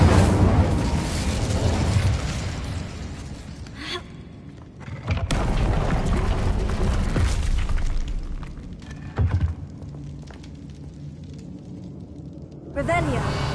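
Incendio fire spell blasts in Hogwarts Legacy, heavy booming bursts near 0–4 s and 5–8 s with a shorter pop near 13 s, over a continuous game music and effects bed.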